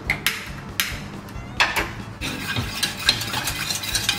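Asado sauce thickened with cassava starch is stirred in a pan, with repeated close scrapes and clinks of a utensil against metal over a faint sizzle.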